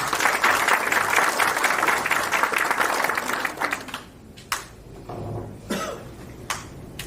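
An audience at a medical centre event claps in a dense burst that fades out over a few seconds, followed by scattered coughs and throat clearing in the quieter room.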